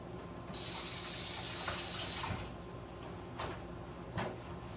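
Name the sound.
washing hands under running tap water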